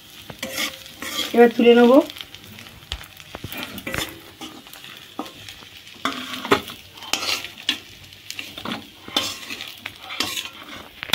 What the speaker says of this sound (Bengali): এবার শুকু মাছগুলো ভাজা হয়ে গেছে